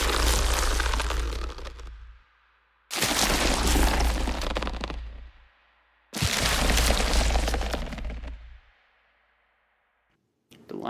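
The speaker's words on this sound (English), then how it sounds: "Here is the sound of some paper mache appearing" Designed gross sound effect meant as paper mache appearing: three loud, dense bursts of wet crackling and crunching texture with heavy low-end weight, each lasting about two seconds and decaying before the next, followed by a brief fourth hit at the end.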